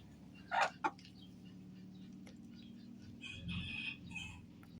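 Chickens cluck and squawk in short bursts in a vegetable garden, with a sharp call at the start and softer clucking later, against faint outdoor background noise.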